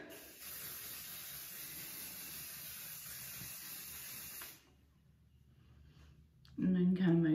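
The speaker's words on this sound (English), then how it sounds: "So we're just gonna spray." Hairspray hisses from an aerosol can onto hair in one steady close spray lasting several seconds, then cuts off into quiet room tone before a brief louder sound at the end.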